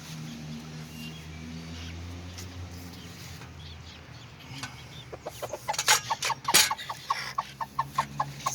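Bantam chickens peck at cicada shells, clucking softly at first and then in a loud burst of quick, close clucks and scratchy pecking toward the end.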